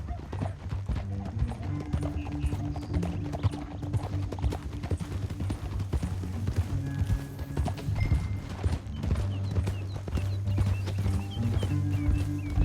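Horses gallop in the Western video game Red Dead Redemption 2, a dense rhythmic clatter of hooves with an occasional whinny, continuous and close throughout, with voices talking over it.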